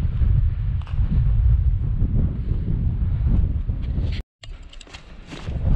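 Strong gusty wind buffets and roars across an exposed summit in the Mourne Mountains, loud and continuous with a brief drop-out near the end.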